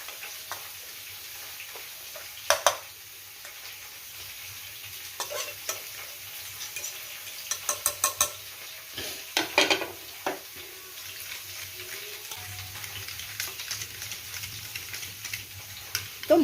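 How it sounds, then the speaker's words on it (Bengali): Spices for a vegetarian cauliflower roast are stirred into sour yogurt in a bowl. Soft scraping runs under a faint background sizzle, with scattered sharp spoon clinks, some in quick clusters. "এই যে টক দইটা নিয়েছি, এর মধ্যে এই সমস্ত উপকরণগুলো মিশিয়ে দেবো"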